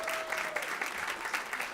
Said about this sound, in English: Give him a round of applause as he comes up to the stage.